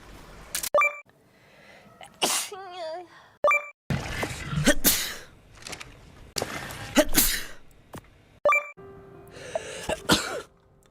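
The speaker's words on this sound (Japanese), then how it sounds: "くしゃみです、こちら。" Several sharp, explosive sneezes recur in separate bursts, loud and close, with laughter and chatter around them.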